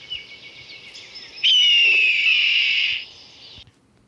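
A voice imitates a high-pitched screeching creature that sounds like a bird of prey, giving one loud, sustained shrill screech of about two seconds that starts abruptly and fades out over faint background noise.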